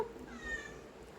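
A single faint cat meow, drawn out and slightly rising, heard alone in a quiet room.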